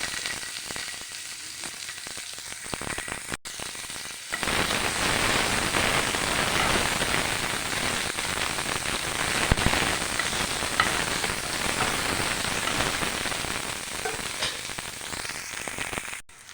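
Chopped onion and crushed garlic tipped into hot oil, bursting into a loud, steady sizzle that holds strong and close for the whole stretch after a brief quieter start, with no talking over it.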